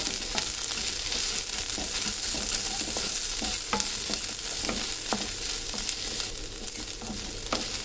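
Dry fish curry ingredients sauté in a pan for a village-style karuvadu kuzhambu, giving a steady close sizzle with irregular stirring scrapes and clicks throughout.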